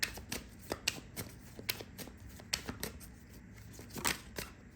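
Numerology cards are shuffled by hand, giving a quiet, close run of crisp riffling snaps and soft slaps in an irregular rhythm, with no talking.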